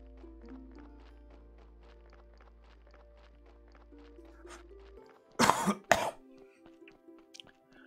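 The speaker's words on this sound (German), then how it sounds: "Und ich müsste gleich mal schnäuzen." Someone blows their nose close to the microphone during a Graveyard Keeper play session: two short, loud, breathy bursts, one right after the other, over soft background game music.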